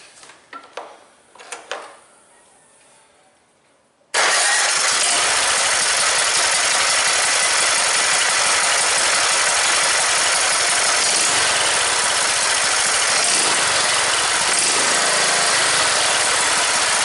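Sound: small engine cranked and running with valve cover off

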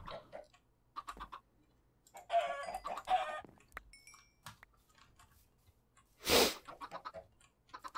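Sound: chicken clucking in video game Minecraft

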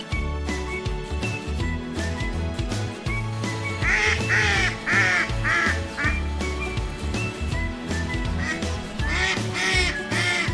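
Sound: wild ducks quacking

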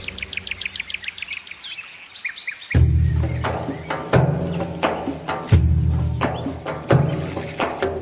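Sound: birds chirping

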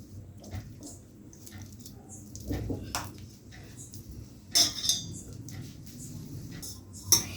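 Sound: water poured into wheat flour dough

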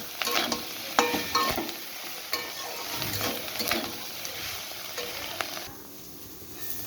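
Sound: stirring fish roe and spiny gourd curry in pan

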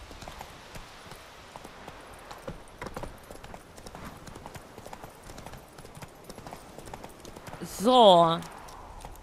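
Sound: Geralt's horse Roach trotting, hooves clip-clopping, from video game The Witcher 3

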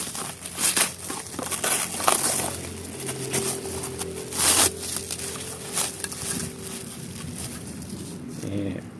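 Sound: opening the packaging of a clutch pump heat shield

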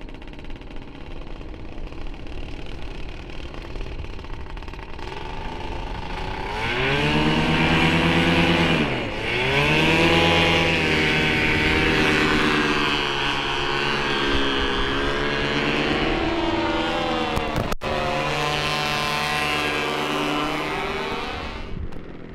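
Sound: paramotor engine running

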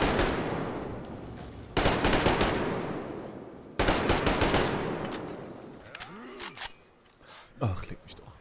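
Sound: gunfire in video game Metro Exodus

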